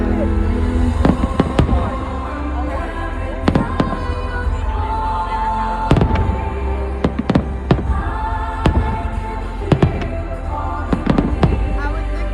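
Fireworks exploding at a large firework show, with repeated sharp bangs and crackling bursts over a continuous rumble, loud and fairly close, while a crowd reacts in the background.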